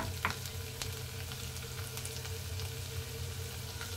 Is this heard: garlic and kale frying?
yes